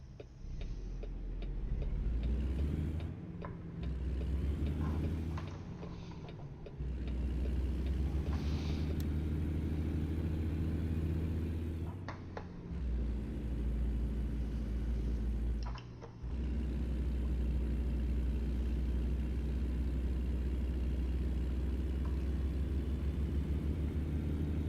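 Truck engine in American Truck Simulator drones steadily at low pitch, dropping out briefly several times as gears shift, then resuming its even, close rumble with no talk.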